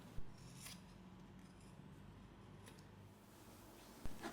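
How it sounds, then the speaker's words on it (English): Scissors trim the seam allowance on a sewn fabric basket, giving a soft rasping snip near the start and a firmer cut near the end. Between the cuts there is a quiet, close rub of the blades against the cloth. "trim the seam allowance to reduce bulk"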